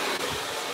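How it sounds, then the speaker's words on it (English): A Revair blow dryer runs steadily, a loud continuous broadband whoosh with a brief dip early on and no talking. "The only thing I have now is the Revair blow dryer"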